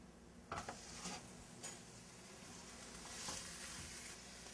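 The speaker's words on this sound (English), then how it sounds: "Hot pan with oil on the stove. We are searing." Brisket searing in a hot oiled pan on a stovetop, a quiet steady sizzle broken by a few sharp clinks and scrapes of utensil against pan, no voices.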